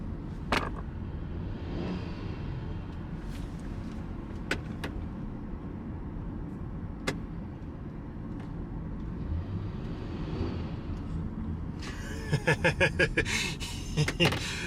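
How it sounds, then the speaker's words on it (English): A van with a slipping transmission makes a steady low engine drone from inside the cabin, with a few sharp clicks and a rapid rattling burst near the end. "My transmission's slipping."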